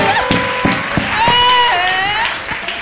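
A church congregation at a Sunday service claps steadily in rhythm, evenly spaced sharp claps at moderate distance under loud singing or shouting voices and crowd noise.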